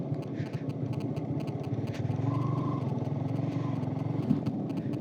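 A motorcycle engine running steadily during a ride, a continuous low throbbing drone heard close up with slight rises in level and no talk over it.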